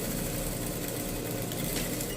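Sewing machine stitching a provisional seam on a bag, running in a steady, continuous mechanical whir close by.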